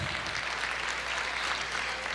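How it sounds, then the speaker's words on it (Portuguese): A church congregation gives a brief, fairly soft round of applause. The clapping is dense and even, with a slightly distant, roomy character. "Uma salva de palmas para o nosso Deus."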